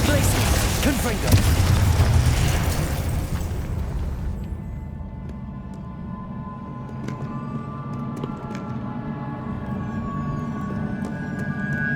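Confringo fire spells from Hogwarts Legacy burst in a loud rumbling explosion at the start, then a quieter stretch follows with scattered pops and shimmering game effects.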